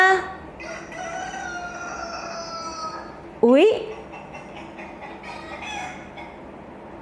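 A hen clucks and calls in a rising, sing-song pattern over background music, with a brief exclaimed voice in the middle.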